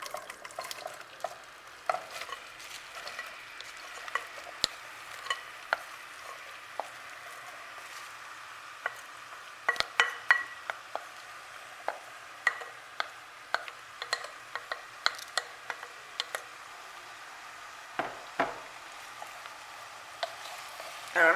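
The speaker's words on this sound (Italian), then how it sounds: "Faccio riscaldare dolcemente e unisco le cipolle." Sliced onions cooking gently in a pot for onion soup, a soft low sizzle under frequent scraping and tapping of a spoon against the pot as they are stirred, close and steady throughout with no talking.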